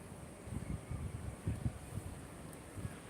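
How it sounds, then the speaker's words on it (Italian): Wind blowing outdoors ahead of a heavy storm with dark rain clouds, a soft steady rush with low gusty buffeting against the microphone, faint and continuous, no talk. "È uscito il vento"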